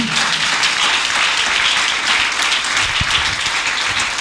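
A church congregation applauds steadily for several seconds, dense and loud clapping filling the space without a break.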